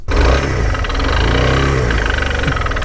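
A motorcycle engine runs steadily close by, faulty and losing power, its idle uneven and sputtering with a rough, wavering rumble throughout.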